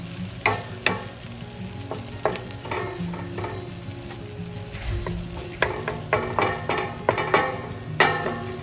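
Tomatoes cooking down into a paste in a pan for spicy egg masala are stirred with repeated sharp scrapes and clacks over a steady low sizzle, the strokes coming in irregular bursts, close and moderately loud.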